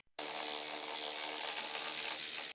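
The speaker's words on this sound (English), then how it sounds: "Use a 10mm deep socket with a short extension bar, an electric ratchet wrench." An electric ratchet wrench with a 10mm deep socket and short extension spins out a transmission cooler mounting bolt on a 2007-2018 Jeep Wrangler JK, a steady loud whirring buzz held for about two and a half seconds, then cutting off abruptly.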